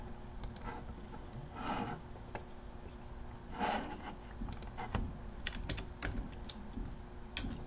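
Typing on a computer keyboard, a busy patter of close key clicks with short bursts and pauses, fairly soft and steady throughout.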